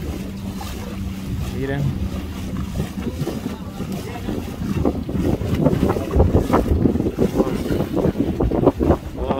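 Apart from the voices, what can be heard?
motorboat on water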